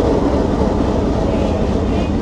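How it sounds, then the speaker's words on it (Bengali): Tungipara Express train pulling out of Kushtia Court railway station: a loud, close, steady low rumble that fills the whole stretch. "এই যে টঙ্গীপাড়া এক্সপ্রেস এই কুষ্টিয়া কোর্ট থেকে এই মুহূর্তে ছাড়ে যাচ্ছে।"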